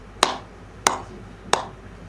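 Hands slap together while shaping roti dough, three sharp, evenly spaced claps about two-thirds of a second apart, close and crisp with quiet between.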